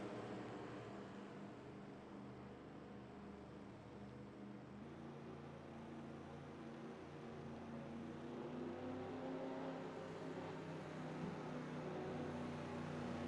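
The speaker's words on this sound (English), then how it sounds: "I thought I heard somebody driving really fast right there." A race car at speed around the Talladega Superspeedway in a racing video game, its steady engine drone running continuously and loud throughout, with no voices.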